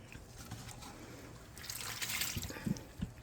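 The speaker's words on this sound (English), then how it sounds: "allowing all this water to come in here" Water pours into a worm bin, a faint trickling and dribbling that swells into a fuller splashing pour partway through, with a few soft knocks near the end.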